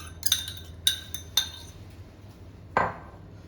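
A fork mixing sugar and milk in a bowl, giving a few sharp clinks of metal against the dish followed by a brief scrape, close and distinct.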